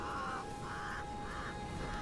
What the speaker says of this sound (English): and that bird. They squawk and caw.